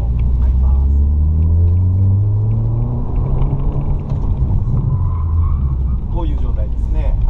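A Suzuki Swift pushing into understeer on a track, its engine droning in a low steady rumble from inside the cabin, with a brief dip midway before the drone resumes.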